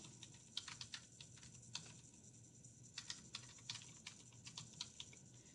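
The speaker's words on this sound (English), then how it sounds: "I'm going to type Think on a Bigger Scale." Fingers tap on a computer keyboard in quiet, uneven bursts of clicky keystrokes with short pauses between words, close but low in level.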